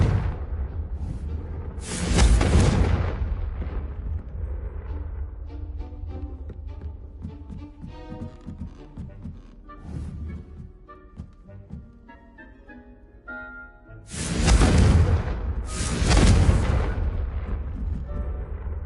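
Fiery blasts from the Confringo spell in a video game, with loud whooshing bursts near the start and again near the end, and softer crackling game effects and music in between.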